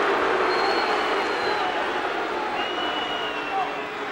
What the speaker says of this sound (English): the crowd of the Bradford fans, they're booing St. Helens because they're very slow to come back